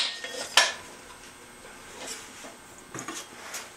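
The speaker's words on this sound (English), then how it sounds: "Wire the bowl off." A wire is pulled under a freshly thrown clay bowl on a pottery wheel head, giving a sharp scrape and then soft rasping drags, close and moderate, with no talking.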